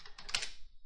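A command typed on a PC keyboard: a brief cluster of a few close key clicks, quiet and without talking.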